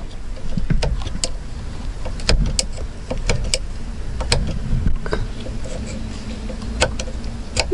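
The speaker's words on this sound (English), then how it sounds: "Now I just gotta start screwing it out." A part is unscrewed during a push start install in a 1990s Honda Accord, giving sharp scattered ticks and clicks from a tool working close by over a steady background rumble.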